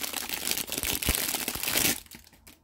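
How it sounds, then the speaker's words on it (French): A small resealable plastic bag holding a diamond painting pen crinkles and crackles as it is pulled open, close and fairly quiet, a dense run of crumpling that ends abruptly. "Donc, ça vient dans un petit sac comme ça là, qui se colle."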